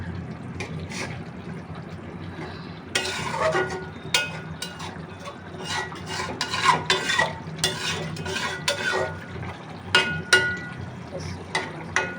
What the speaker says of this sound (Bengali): এবার মাছগুলো একবার উল্টে দেবো